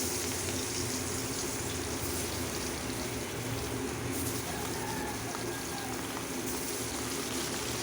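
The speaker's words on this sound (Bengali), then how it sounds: "এখন আমি মাছ একটা একটা করে সব ছেড়ে দিচ্ছি" Pieces of rohu fish fry in hot white oil in a karai, making a loud, dense, continuous sizzle that holds steady throughout with no talking.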